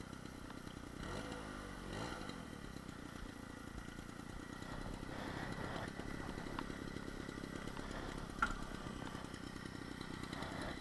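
A 1986 Peugeot 103 MVL moped engine runs steadily while riding, a constant buzzing two-stroke drone with wind rush and a brief clatter partway through, no talk.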